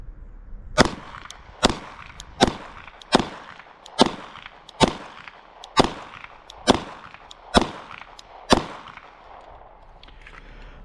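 Ten sharp pistol shots from a Glock 19 Gen 5 fed from a Glock 19X magazine crack out one by one at an even, deliberate pace, each loud and followed by a brief ringing decay.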